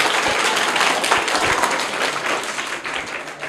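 Audience applause on a children's quiz show after a correct answer, a dense steady wash of clapping that holds for the full few seconds with a few sharper individual claps standing out.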